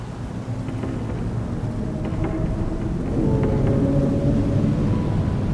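Heavy rain pours in a dense, steady roar with low thunder rumbling beneath it during a storm at sea, with no voices.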